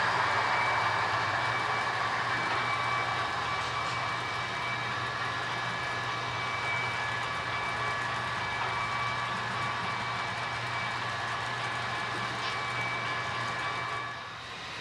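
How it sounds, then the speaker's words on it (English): An HO scale DCC model of the Napa Valley Wine Train's dinner service runs along a layout, climbing a grade toward St. Helena. It makes a steady, moderate whirring hum with faint rail clicks, and the sound holds evenly before easing slightly at the end. "luck brings us the Napa Valley wine train running its dinner service train"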